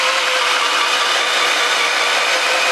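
A loud, steady mechanical whirr runs without pause, like a drill grinding continuously close by.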